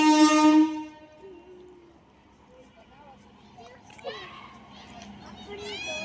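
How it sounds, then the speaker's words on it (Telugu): A loud, sustained train horn sounds near a railway track at the start, then fades as the train approaches. Voices and children's chatter carry on over a low rumble, with a few more brief horn-like tones toward the end. "ట్రైన్ వస్తుంది, అదిగో ట్రైన్ వస్తుంది."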